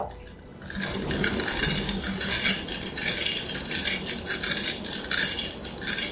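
A spoon stirs saffron into a custard mixture in a metal pan, making a continuous rhythmic clinking and scraping, close and fairly loud, after a brief quiet start.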